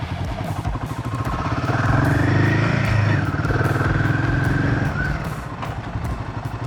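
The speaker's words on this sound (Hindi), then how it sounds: "और अब मैं इस कोन के पास आके फर्स्ट गियर पे करती हूँ" A Royal Enfield Himalayan 450 motorcycle moves slowly in first gear past a training cone, its engine note rising to a steady, fairly close drone and easing off again, with no talking over it.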